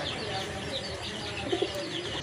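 Pigeons in a pigeon shop coo softly in short, low bursts, with a few chirps mixed in. Someone talks nearby over them.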